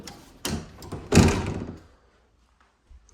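A house's front entry door moves open with a couple of solid wooden thumps and a brief scraping rush, close by, then settles into near silence.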